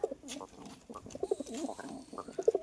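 Deshi Giribaj pigeons coo close by in a soft, repeated burbling rhythm, with short pulsing calls running through the whole stretch.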